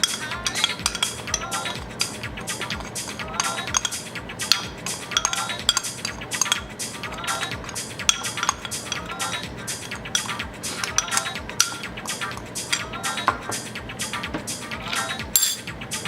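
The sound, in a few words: mixing chilli and citric acid seasoning in a bowl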